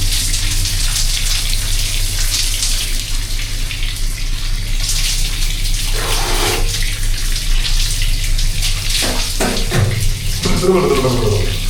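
Tap water runs steadily aboard a cargo ship on the Amazon River, a loud continuous gush with splashing that shifts slightly in tone, accompanied by low engine hum.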